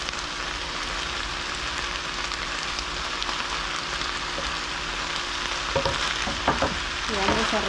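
Chicken with chopped tomato, onion and chili fries in a pan under a dense, continuous sizzle, and scraping stir strokes come in near the end.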